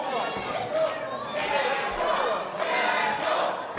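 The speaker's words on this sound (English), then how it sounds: "The crowd chanting for Jackal" A capacity crowd at a CCW professional wrestling match chants for a wrestler, a loud, steady roar of massed voices with rhythmic swells that fills the whole stretch.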